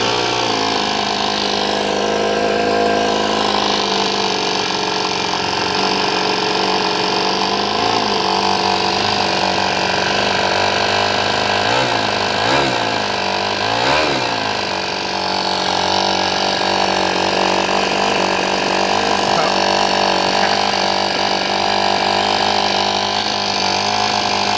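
A Semto ST-NF2 engine fitted with a super turbo runs at idle, producing a loud, constant droning roar with a steady mechanical whine and brief wavering in pitch midway, close and unbroken.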